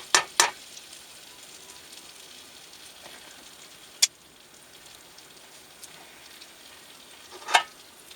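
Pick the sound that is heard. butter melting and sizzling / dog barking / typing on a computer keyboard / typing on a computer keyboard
butter melting and sizzling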